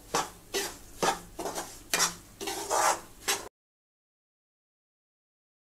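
Moong dal halwa mixture stirred in a pan over medium flame: a spoon scrapes in about six rhythmic strokes over three seconds, then silence.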